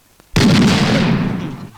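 A bomb goes off in a Malayalam comedy film scene, one sudden loud blast that breaks out of near silence and leaves a long, dense roar fading slowly over more than a second.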